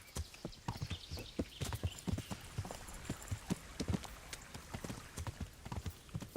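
Hooves from a video game horse beat out a fast, even clip-clop, close and continuous throughout, sometimes overlapping into a galloping patter.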